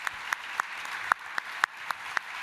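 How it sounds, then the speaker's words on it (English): Audience applause at a conference panel: a steady wash of clapping with sharper individual claps standing out at fairly regular intervals, moderately loud and with no talking over it. "So I want to give a big applause to the work that these guys are doing here."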